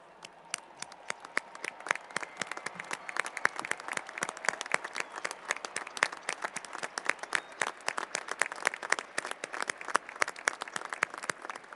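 A commencement crowd of university alumni stands and applauds new graduates, a steady, dense patter of many hands clapping at moderate distance, with no talk over it.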